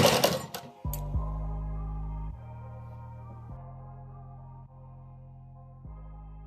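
An electric sewing machine stitches the front panel of a blouse, opening with a brief clatter before settling into a steady motor drone that pauses and restarts several times over a few seconds.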